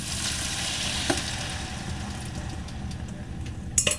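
Bourbon chicken sizzles and bubbles steadily in a pan, a dense frying hiss that runs throughout, with a couple of brief clinks of utensils as the marinade goes in near the end.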